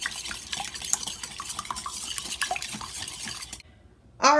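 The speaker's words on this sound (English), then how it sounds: "I'm just going to whisk these until they turn into a pale yellow color." Three extra large room-temperature eggs whisked in a large bowl, rapid rhythmic clinking and sloshing of the whisk against the bowl for several seconds, then a brief pause and a final clatter.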